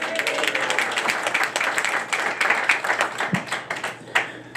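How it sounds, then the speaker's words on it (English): A round of applause from a small audience, fairly close and uneven clapping with distinct individual claps standing out over several seconds. "Everybody get Niles a round of applause."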